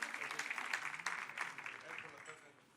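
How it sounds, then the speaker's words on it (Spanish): Faint applause from a crowd, steady clapping that gradually fades out. "Un aplauso fuerte."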